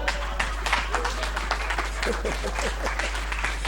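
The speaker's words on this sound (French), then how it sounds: "Acclamez." Congregation in a church service bursts into applause and acclamation, a continuous broadband clatter of clapping with some vocal shouts, moderately loud and sustained.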